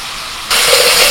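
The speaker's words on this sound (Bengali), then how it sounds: "পেঁয়াজটা ভেজে নিয়ে দিয়ে দিচ্ছি আদা রসুন বাটা 1 চামচ" Ginger garlic paste hits frying onions and bursts into a loud, steady sizzle that starts abruptly after a quiet half second and continues close and strong.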